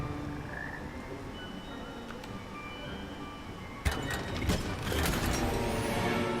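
Frogs croak in a steady chorus of repeated calls within the video game Hogwarts Legacy, joined midway by a burst of clattering and mechanical rattling sounds that grow louder toward the end.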